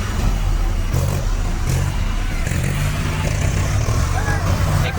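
A stuck tractor revs its engine hard, a steady loud low rumble with rising pushes, under voices talking throughout.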